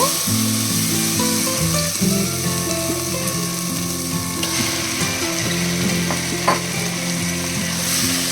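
Chicken pieces go into a pan of tomato masala, frying loudly and steadily, with repeated scraping and clattering from stirring throughout, and no talking.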